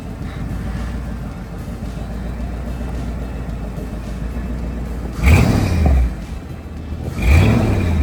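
A Jeep driven for the first time after sitting a long while, a steady engine rumble with two louder revving surges near the end, close by with no talk.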